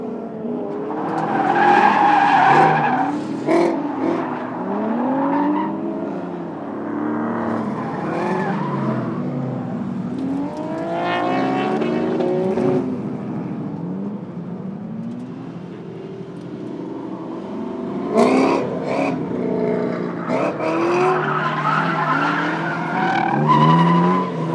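A car drifting at a drift event, its engine revving and roaring loudly while tires squeal and skid in long sweeping bursts, near and continuous with rising and falling pitch.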